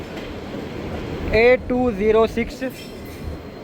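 Steady rolling rumble of a Pakistan Express train led by HGMU 30 locomotive on the rails toward Bahawalpur, running throughout while someone talks briefly over it.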